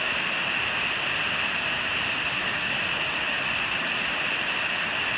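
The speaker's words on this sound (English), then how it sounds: "waterfall to brighten your afternoon, as if it wasn't already bright enough" A cascading waterfall on the Appalachian Trail rushes in a steady, unbroken hiss of falling water, close and even throughout with no voices.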